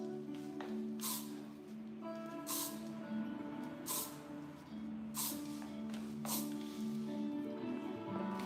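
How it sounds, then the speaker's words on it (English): Hairspray is sprayed onto styled hair in several short, hissing bursts spaced a second or so apart, close and moderately loud over faint background music. "spray, with hairspray."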